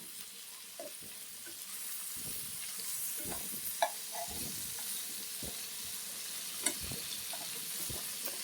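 A masala snack sizzles and fries in a pan on a low stove while being stirred and turned, producing soft scraping and gentle crackling with a few sharper taps against the pan, close and fairly quiet, with no talking.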